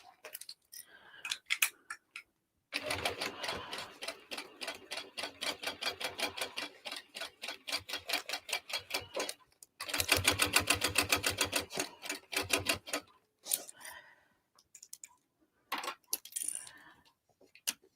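A sewing machine stitches a seam on a Passionflower tote bag, running in fast steady bursts of rapid clicking with short pauses between runs and a few slower single stitches, no voice.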